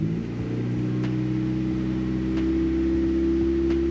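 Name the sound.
car engine idle rising after IAC valve switched to PWM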